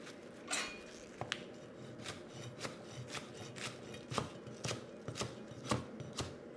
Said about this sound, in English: With the pak choi, I'm just gonna cut into nice lengths